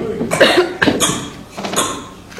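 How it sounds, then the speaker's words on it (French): Several people cough in quick succession, three or four harsh, close coughs with brief pauses between them. "Ils toussent."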